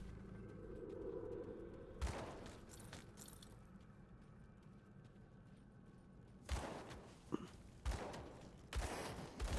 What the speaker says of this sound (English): Kyle, stop shooting things.